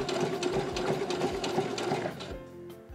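A sewing machine runs a steady, close-up stitching line along a seam about half a millimetre from the fabric edge, with a continuous mechanical whir that slows and stops near the end.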